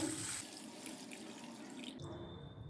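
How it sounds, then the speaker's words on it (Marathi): Water runs in a steady, quiet stream into a container of washed mung dal, then cuts off abruptly, leaving a faint hum. "आता याच्यात पुरेसं पाणी घालू आपण"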